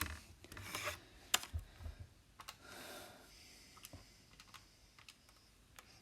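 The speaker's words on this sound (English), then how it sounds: "it's just a matter of typing that into your calculator" Quick button presses on a calculator keypad while working out a trigonometry answer, a run of light, close tapping clicks with a brief louder burst near the start, no talking.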